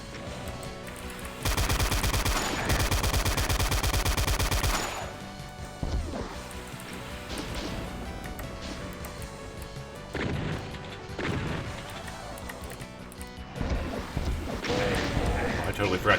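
Arachnotron firing at the player in Doom, a dense burst of rapid-fire shots followed by scattered gunfire, impacts and game effects layered under music.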